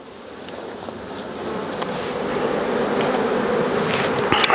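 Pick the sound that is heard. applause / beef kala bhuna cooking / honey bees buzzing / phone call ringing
honey bees buzzing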